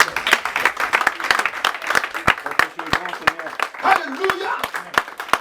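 Church congregation applauding and acclaiming together, a steady wash of clapping with scattered sharp claps, voices rising and calling out over it.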